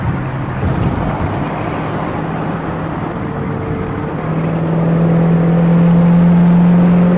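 A 1965 Ford Mustang with a 289 V8 engine and automatic transmission revs and accelerates, a steady loud engine drone rising in pitch and intensity toward the end.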